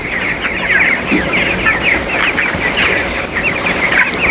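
Many chickens cluck continuously close by on a poultry farm, a busy overlapping chorus of short clucks and murmurs with no one talking.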